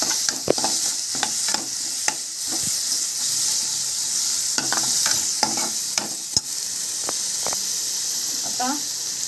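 Chili and garlic sizzle steadily in a hot pan while a spoon scrapes and stirs in repeated short strokes. A bright frying hiss runs throughout, and the clicks of the spoon are sharp and close.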